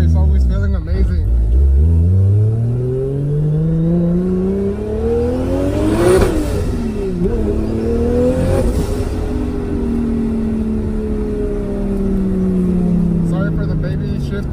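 A car engine revs up and drops back as the driver shifts through the gears, with several rising and falling sweeps close by and people talking over it.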